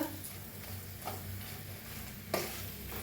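Potato and okra sabzi fries in a pan under slow stirring, a quiet, even sizzle broken by a couple of utensil scrapes and one sharper knock, close up and without speech.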